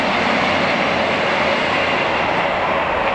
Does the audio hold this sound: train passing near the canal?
yes